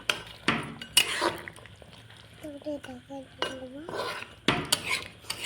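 Desi chicken curry being stirred in a pan after a splash of water, with loud scraping clatters of a spoon against the metal in bursts, faint sizzling underneath and a brief melodic tone midway.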